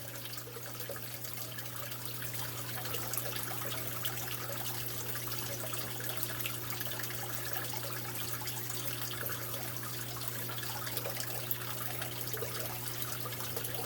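Steady trickling water topping off a brackish aquarium, a continuous faint pour running evenly with a low constant hum beneath and no voices.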